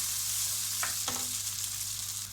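Butter sizzling in a hot pan for a Turkish vegetable summer pilaf, a constant bright hiss that fills the whole moment, with a couple of faint clinks.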